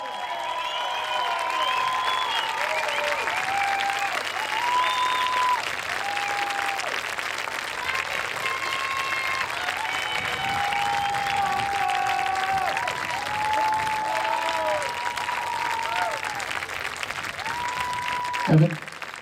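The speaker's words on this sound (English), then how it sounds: "let's hear it for the Pride of Sebastian Renner" An evening audience applauds a school marching band, the Marching Sharks: sustained, dense clapping with scattered cheers and whistles across the whole stretch, crowd voices mixed in underneath.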